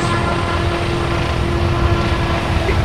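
Two military helicopters in a tactical patrol shooter, a steady loud rotor and engine drone holding constant throughout with no voices over it.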